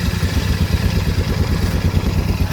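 A motorcycle whose clutch must be pulled in before starting, its engine running at a steady idle with a low, throbbing mechanical clatter, close and loud with no voices.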